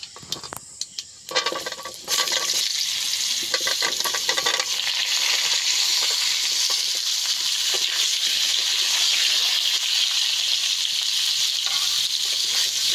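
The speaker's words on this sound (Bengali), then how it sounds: "আলুটাকে কিছুক্ষণ ভালো করে ভেজে নেব।" Cut potatoes sizzle and fry in hot oil in a kadai after whole spices are tempered, a loud steady crackling hiss with stirring scrapes early on, no talking.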